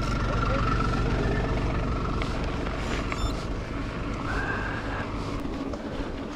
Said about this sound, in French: cette petite session suivie de camionnette qui marche au gasoil